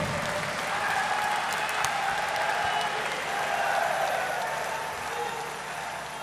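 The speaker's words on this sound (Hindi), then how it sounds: "आप एक जोरदार तालियां बजाकर बाबा जी का एक बार अभिनंदन करिए जोर से" A large audience claps loudly and steadily for Baba ji at the inauguration of the Patanjali Food and Herbal Park in Mihan, Nagpur, a dense sustained applause that fades slightly toward the end.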